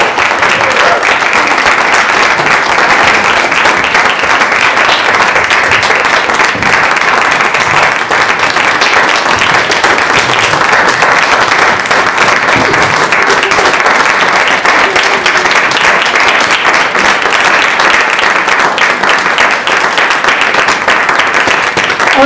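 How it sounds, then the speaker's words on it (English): A room full of people gives playwright Karen Malpede a long, loud round of applause, a continuous crackle of clapping hands with a few individual claps standing out, close and strong, lasting over twenty seconds. "So a big applause to Karen."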